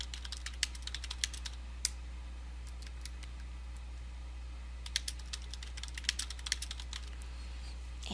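Computer keyboard typing in short irregular bursts of clicky keystrokes, close and fairly quiet, over a steady low electrical hum, with no talking.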